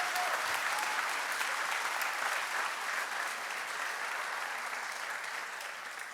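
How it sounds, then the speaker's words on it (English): A crowd claps steadily at a community event, a thick wash of hands that holds for several seconds and slowly fades a little, with no talking over it. "Can we give a huge round of applause to all of our sponsors and friends and supporters?"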